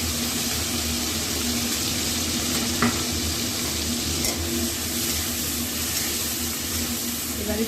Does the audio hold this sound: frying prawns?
yes